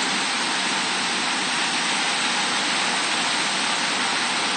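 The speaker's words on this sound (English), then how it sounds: "It is raining really hard." Heavy downpour from a tropical storm in New York City, a dense, constant hiss of rain roaring evenly throughout without pauses or talk.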